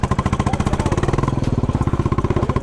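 Royal Enfield Chrome 500 single-cylinder motorcycle engine thumping steadily while riding off-road in first gear, loud and close with a fast even pulse and little variation.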